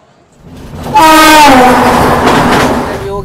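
Udyan Express train at Bengaluru railway station: a loud horn blast sounds over the rumble of the moving train, with rolling wagon noise continuing close by on the platform.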